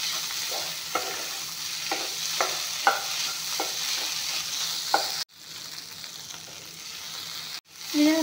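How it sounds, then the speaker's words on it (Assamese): Bitter gourd fries in a pan with a steady close sizzle, while regular scraping strokes of a spatula stir it roughly once a second, and there is no talking. "এয়া চব ভাতকেৰেলাখিনি ভালকৈ ভাজি ল'লোঁ"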